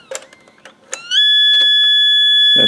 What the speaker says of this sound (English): Notice the transport still moves even though the no tape alarm is engaged.